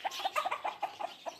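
Desi rooster and chickens cluck in a coop at evening, a string of soft, quick clucks and chatter at a moderate distance, faint and without speech.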